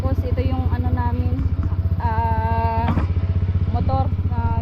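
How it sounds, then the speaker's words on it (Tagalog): Motorcycle engine running steadily nearby on a road ride, a rhythmic low pulsing putter throughout, with people talking over it. "motor na gamit namin ni Marcos"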